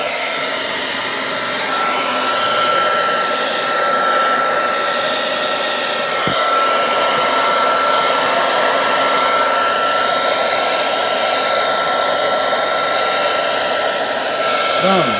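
The Leeson Speedmaster motor of an Inclinator home elevator runs through its reset after starting, giving a loud, steady whirring drone with a thin tonal whine that holds unbroken throughout.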